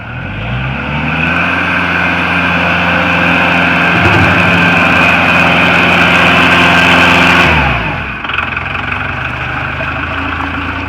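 A Kubota tractor engine runs with a steady mid-pitched drone while working its loader, rising briefly in load and then dropping to a lower idle near the end.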